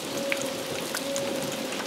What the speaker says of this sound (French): il ne cesse de pleuvoir